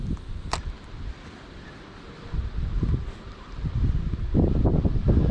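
Wind gusts buffet the microphone on the Stony Lake shore, a rumbling low rush that rises and falls, growing stronger toward the end.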